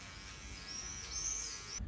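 Electric zero-guard hair clipper trimming the sides and neck at a barber's, a steady close buzzing hum with a rising whine that holds for about two seconds before cutting off abruptly.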